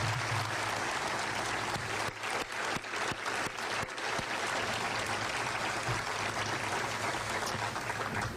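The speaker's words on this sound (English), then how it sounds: "a great round of applause." An audience at a university athletics event gives a sustained round of applause, dense steady clapping filling the room with no talk over it.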